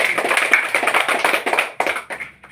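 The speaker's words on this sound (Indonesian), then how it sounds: "Ya, tepuk tangan untuk teman kita." A group of people claps their hands together in a classroom, sharp uneven slaps repeating for a couple of seconds at close range and moderate loudness before thinning out.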